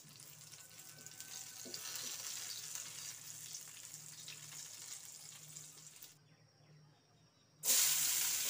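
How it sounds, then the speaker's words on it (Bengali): Chopped onion sizzles steadily in hot oil left from frying aubergine, a continuous close frying hiss that drops away near the end before a sudden louder burst of sizzle or running water. "এবার নেড়ে চেড়ে হালকা করে একটু পেঁয়াজ ভেজে নেব।"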